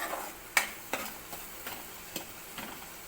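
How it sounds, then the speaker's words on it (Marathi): Spices fry in oil in a pan while being stirred for a Marathi dry pithla, giving a faint sizzle with several soft, separate scrapes and taps of the spoon spaced through the stretch. "मसाले तेलामध्ये चांगले परतले की त्याचा स्वाद मसाल्याचा तेलामध्ये चांगला उतरतो"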